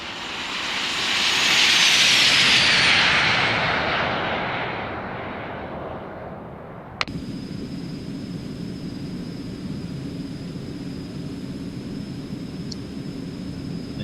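An Eclipse 550 business jet in the X-Plane 11 flight simulator roars past in a flyby, swelling to a loud whoosh, then fading before cutting abruptly to a steady, quieter engine drone.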